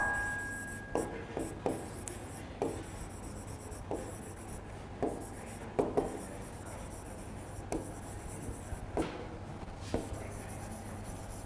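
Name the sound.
writing on a board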